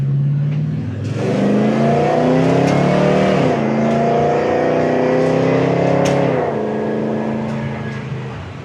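A 1955 Chevy Bel-Air with a Quicksilver shifter accelerates through the gears, its engine climbing in pitch, dropping at each shift and rising again, loud and close throughout with no talk.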